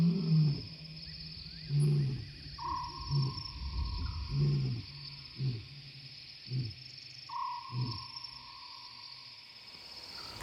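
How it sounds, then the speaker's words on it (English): At night, a lion roars in a series of deep, rhythmic grunting pulses that fade and slow over about ten seconds, heard over a constant shrill chorus of insects. "we're serenaded by Juno's glorious roars and follow the sound"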